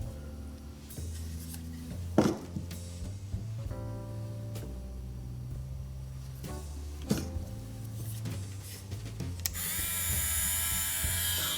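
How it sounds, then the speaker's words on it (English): Andis MLC Masters cordless clipper with a rotary motor running on battery, a steady faint whirring hum with a few clicks and knocks from handling, then a brighter higher-pitched whine near the end, with no talk. "So it's a rotary motor"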